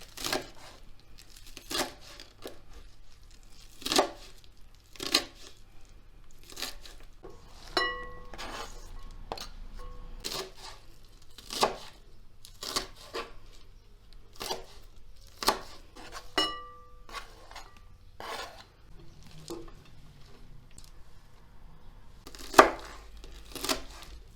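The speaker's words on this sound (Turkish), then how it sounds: "semizotlarını çok küçük küçük doğramayalım" Purslane stems and leaves being chopped on a board with a knife, a steady series of sharp crisp cuts spaced about a second apart, close and fairly quiet, with no talking.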